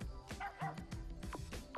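Dog voice for a character in the video game Amazing Island: a rapid run of small yipping barks and whimpers, close and clear, repeating in quick bursts.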